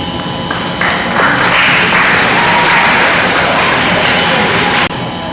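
An audience in a celebration hall applauds the chairman after a mass, with steady, dense clapping that swells after a brief start, holds for about four seconds at close range, then cuts off sharply.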